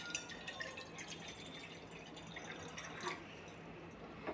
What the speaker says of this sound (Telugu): ఇప్పుడు ఇందులో మనకు కావాల్సినంత వాటర్ పోసుకోవాలి.